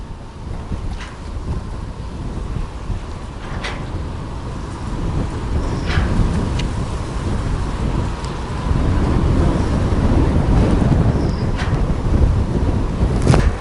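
Strong wind on the Mississippi River bank across from Davenport, Iowa roars and buffets the microphone continuously, a loud broadband rush that swells louder in the second half, with no voices.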